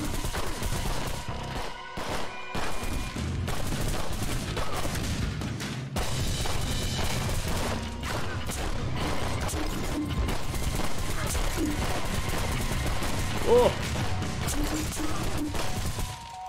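Enemy gunfire rattles continuously through a fight in the Blight demo, a steady barrage of shots with occasional heavier booms and crashes, loud throughout the whole stretch.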